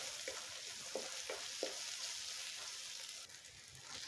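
Quiet, steady sizzle of ghee in a pan while cooking dal khichdi, with several soft stirring taps spaced through the frying hiss.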